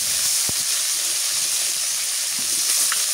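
Steady broadband sizzle of fish frying in soybean oil in a village kitchen, a continuous hiss with a sharp clink near the start, no voices.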